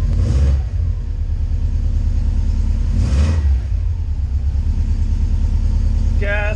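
A Subaru hillclimb project engine, newly converted from cable to drive-by-wire throttle, idles with a loud close rumble and rises in two short revs, the second briefly overlapping a voice.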